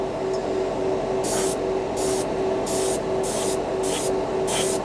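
Harbor Freight's cheap airbrush and compressor combo spraying paint in a series of short, loud hissing bursts over a steady compressor hum, with no one talking.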